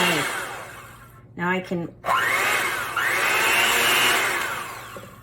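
An electric hand mixer with beaters whirs through cream cheese Kool-Aid pie filling, starting and stopping in short bursts before settling into a long steady whine, with a voice speaking briefly between runs.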